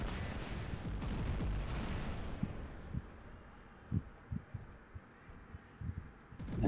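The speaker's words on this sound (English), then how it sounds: "Just time to shoot up some bots and have fun." Gunfire in a shooter video game as a player shoots up bots, a burst of rapid shots followed by scattered single thumping blasts at moderate distance.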